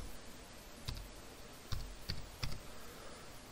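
Password keys tapped on a computer keyboard, four sparse, distinct clicks spaced about half a second to a second apart over a faint steady room hiss.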